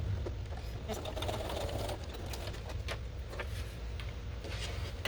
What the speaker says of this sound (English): So there's our first line of stitching.